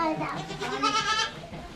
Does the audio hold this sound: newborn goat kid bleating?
yes